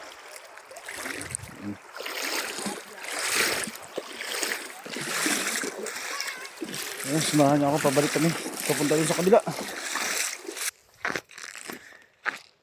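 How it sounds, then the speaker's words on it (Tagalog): Water splashing and sloshing as someone wades across a river in an onion-farming area of Mindoro, uneven surges of churning water with people talking over it. "Tawid na tayo sa ilog."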